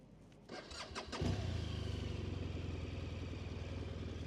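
A BMW R1200RT motorcycle with 26,000 km on it cranks with a few quick starter clatters, then catches and runs at a steady, close idle with a low, even throb.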